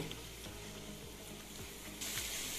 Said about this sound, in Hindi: लहसुन को हमने ऑयल के गर्म होने के साथ इसको फ्राई करना है